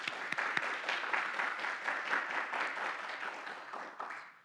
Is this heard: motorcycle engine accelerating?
no